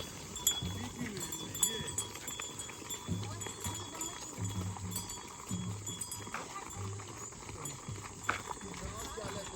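Sheep on a farm bleat faintly now and then in the background while someone talks over them, with scattered hoof clops and light shuffling nearby.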